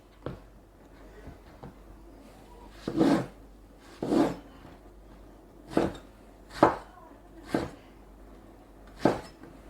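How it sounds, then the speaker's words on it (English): Knife cubing an eggplant on a cutting board, a slow series of about eight separate chops, each a short thud, moderately close with quiet gaps between; no talk. "1 eggplant, which again we're gonna cube, decent size cubes"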